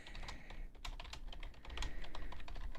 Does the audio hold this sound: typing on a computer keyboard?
yes